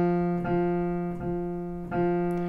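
Piano in the bass clef sounding four even quarter notes from a beginner reading-music lesson, each attack striking a low sustained tone that rings into the next, close and alone with no talking.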